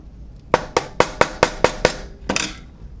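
Seven sharp, evenly spaced hammer knocks ring out close up, followed by a rougher crunching crack, as glued-in magnets are broken loose from a Franken Torque motor.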